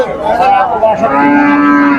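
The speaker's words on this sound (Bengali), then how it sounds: "সব কিন্তু গাই গরু এখানে।" A cow at a cattle market lets out one long, loud, close moo that stretches across the whole moment and is heard alone.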